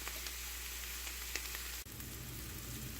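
Chanterelle mushrooms and onions sauté in a pan with a steady, even sizzle and a few light clicks, then a brief drop at about two seconds before the hiss resumes, with no talking.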